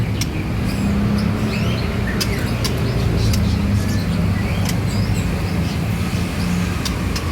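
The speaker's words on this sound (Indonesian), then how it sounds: "Ini murai batu teman-teman." A white-rumped shama (murai batu) singing in a bird kiosk in Makassar: short, sharp chirps and whistles repeat intermittently over a steady low hum of background traffic.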